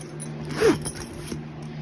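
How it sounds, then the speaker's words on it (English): A grow tent zipper is pulled closed in one quick close rasp, followed by faint handling noises and a steady fan hum behind it. "Let me zip it back up"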